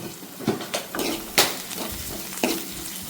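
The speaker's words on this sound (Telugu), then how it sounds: "అట్లా బాగా వేగిన తర్వాత ఎండిపోయిన కరివేపాకు 4 రెమ్మలు వేసుకోవాలి." Dried curry leaf sprigs dropped into a hot pan give sharp sizzling bursts with clinks and stirring scrapes at close range, no voices.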